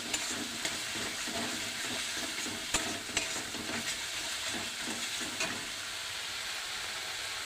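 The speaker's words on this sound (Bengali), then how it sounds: "হলুদটার মধ্যে একটু জল দিয়ে দিচ্ছি। এখন অনেকক্ষণ ধরে কষবো।" Turmeric paste thinned with water is stirred and fried in a pan, giving a steady, close sizzle with scraping strokes of the spoon and a few sharper knocks against the pan, alone with no talk.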